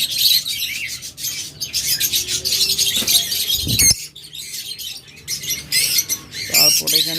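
Caged lovebirds at a bird market chatter and squawk in dense, overlapping high chirps, loud and close, with the calls shifting in intensity and a brief pause near the middle before the chorus resumes.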